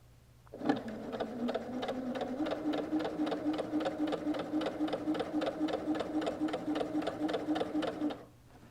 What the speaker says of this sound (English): All right, that's nice and secure, and I'm ready to sew.